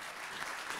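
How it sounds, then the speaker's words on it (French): Audience applause at an energy conference session, a steady, dense wash of clapping heard at a distance and fairly faint, with no pauses. "si on peut vous applaudir."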